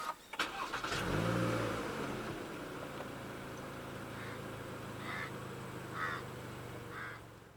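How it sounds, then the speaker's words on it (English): A 2019 Toyota Camry with a 2.5 litre engine fires up from its push-button start, rising in a short burst before settling into a steady, moderately quiet idle hum. "So to start the Camry, make sure the key fob is inside the car. Put your foot on the brake and press the start button"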